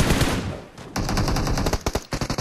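Gunfire in PUBG Mobile during a duo-versus-squad match: a loud, close burst of rapid automatic fire, then after a short pause several quick, separate shots.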